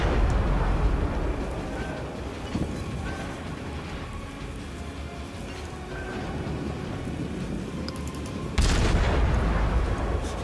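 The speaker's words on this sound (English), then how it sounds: "There they go. Shots out." Heavy naval guns boom in a World of Warships battle aboard the German cruiser Königsberg, with a deep rumbling bed throughout and a sharp, loud blast near the end.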